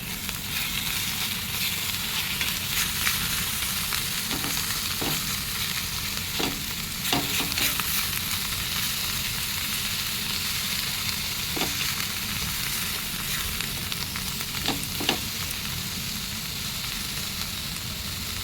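Turmeric and kharkol leaves stir-fried in oil give a steady close sizzle. Scraping stirs come through several times, and no one speaks.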